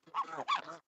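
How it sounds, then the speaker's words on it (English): A domesticated Canada goose gives two quick, soft nasal honks in close succession, nearby and fairly quiet, with nothing else around them. "These are domesticated Canada geese."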